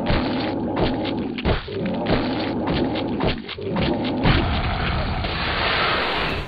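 Quake game audio of axe swings and fleshy melee hits, a steady run of dull thuds and impacts with whooshing swings over continuous dense background sound.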